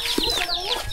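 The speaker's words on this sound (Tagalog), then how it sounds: "May manok si otol yan." Chicken sounds at a rural Philippine home, with quick clucks and high chirpy calls in a brief close burst over faint background noise.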